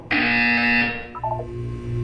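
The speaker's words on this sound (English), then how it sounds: "When you hear the buzzer, look down at the floor." A Portal 2 test-chamber buzzer blares loud and steady for almost a second, then drops into a short run of lower stepped electronic beeps over a soft background hum.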